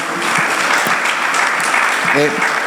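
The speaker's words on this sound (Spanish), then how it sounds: "Que esas palmas sean para el Señor." A church congregation claps hands in loud, dense applause throughout, with voices calling out briefly near the end.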